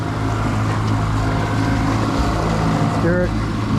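A 22-foot North River jet boat with an F250 engine shifting into gear, a loud steady low engine rumble running throughout with a brief mechanical clunk near the end.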